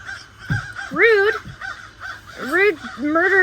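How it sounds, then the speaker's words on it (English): Crows give loud, harsh caws in a few bursts, some drawn out and nasal, fairly close outdoors, with pauses between calls. "Aren't crows called like a murder of crows or something like that?"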